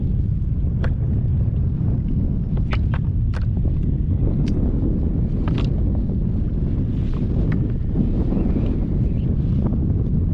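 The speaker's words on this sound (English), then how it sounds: "that wind is cold, everybody. That wind is cold." Cold wind blowing hard across a microphone over a lagoon during inshore kayak fishing in December, a loud steady rumbling roar with scattered small knocks and clicks.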